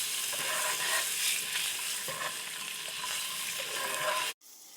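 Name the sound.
boiled eggs frying and stirred in masala gravy pan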